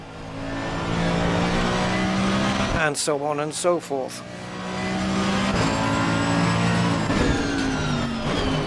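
A race car engine in the Assetto Corsa Competizione simulator revs hard and steadily, breaks into a quick burst of shifts and blips, then climbs back to a loud sustained drone, with someone speaking briefly over it.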